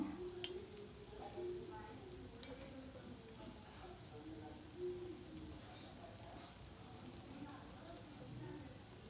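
Ginger garelu, lentil fritters, frying in hot oil as a festival offering, giving a soft continuous sizzle and bubbling at low level, with faint scattered clinks over the whole stretch.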